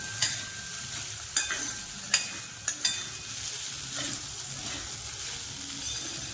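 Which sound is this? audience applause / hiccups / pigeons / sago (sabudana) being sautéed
sago (sabudana) being sautéed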